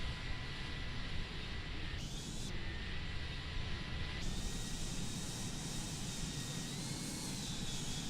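Airbus A310 engines in Microsoft Flight Simulator 2020, Pan Am livery: a continuous, even jet roar with broad hiss and a thin high whine that steps up in pitch partway through, steady and unbroken throughout.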